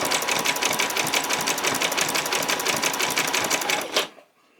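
A sewing machine runs steadily, stitching long-sleeved T-shirt fabric in a fast, even rhythm of close, loud needle strokes for about four seconds before stopping abruptly.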